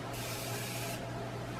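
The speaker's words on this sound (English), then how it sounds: "she used some setting spray on it" Makeup setting spray misted onto a small brush, a single short, close hiss lasting under a second, alone without talk.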